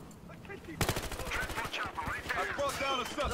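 Rapid pistol gunfire in the cop-and-robber shooter Battlefield Hardline, a dense volley of sharp, loud shots starting abruptly and continuing steadily, with game effects and voices mixed in.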